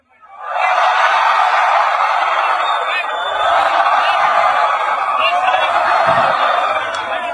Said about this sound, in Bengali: এবার আমার হাত যত উপরে থাকবে তত জোরে চিল্লাবা,